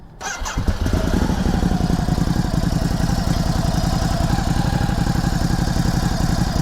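A 2020 Ducati Hypermotard 950 SP engine cranks and catches, then settles into a loud, steady, rumbling idle close by.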